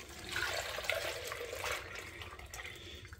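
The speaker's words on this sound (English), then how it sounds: "So let's dump in our cream and our milk." Heavy cream and milk poured into a pot of clam chowder, a soft, quiet splashing pour that trickles off toward the end.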